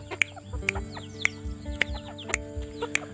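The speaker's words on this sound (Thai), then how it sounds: "นี่แหละครับ ไก่หนุ่มไก่สาวผม ที่ผมผิดขึ้นมาใหม่เนาะ" Several chickens cluck and chirp softly nearby, with short repeated calls scattered at an irregular rhythm over quiet background.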